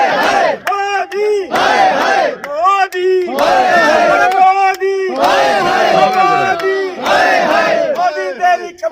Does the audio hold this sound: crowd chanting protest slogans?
yes